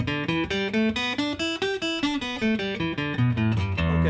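An acoustic guitar runs through an open E pentatonic blues scale, single plucked notes in a steady stepwise rhythm, close and clear with no talking.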